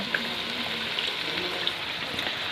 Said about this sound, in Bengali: আমরা এবার মাংস দিয়ে দেবো এর মধ্যে